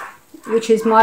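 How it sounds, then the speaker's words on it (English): A pet dog whimpers and yips briefly in the background while someone speaks indoors during a crafting session. "You have to excuse my dog if you can hear her in the background."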